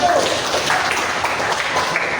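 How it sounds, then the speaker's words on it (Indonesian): An audience in a classroom-style session claps for a presenting group, a mix of close and scattered hand claps that stays fairly loud across the brief stretch, with some voices murmuring underneath. "Beri tepuk tangan untuk kelompok 1."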